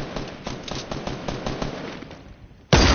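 Video game gunfire crackles in a rapid series of repeated shots that taper off, then a sudden much louder burst erupts at the end; no talk over it.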